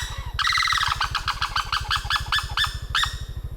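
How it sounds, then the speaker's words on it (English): A big, loud bird calls at a Siem Reap market in Cambodia, giving a rapid series of sharp, repeated squawking notes close by over a steady low engine-like hum. "Whatever he is, he's a big bird."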